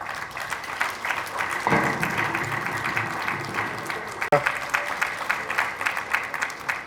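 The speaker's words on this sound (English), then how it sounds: "And they are clapping" An audience claps after a speech, with dense, steady applause lasting several seconds while a voice talks over it.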